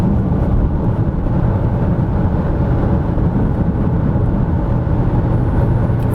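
A Citroen XM with a V6 engine drives along, its steady low engine drone and road roar continuous and loud throughout, with no talking.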